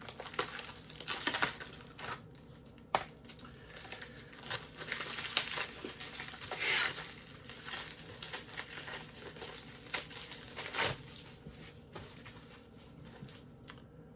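Mail package being cut open and handled, with continuous crinkling, rustling and scraping of cardboard and plastic packaging, occasional sharper tearing bursts, close and fairly loud, no talking.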